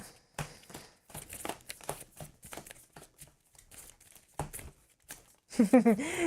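Board game cards being shuffled at a Slay the Spire table, with crisp crinkling riffles and scattered flicks in short bursts, broken by pauses and people talking nearby.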